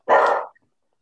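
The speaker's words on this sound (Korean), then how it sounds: "강아지가 인사를 잘한다, 그렇죠?" A single dog bark rings out loud and close, short and sharp, followed by silence.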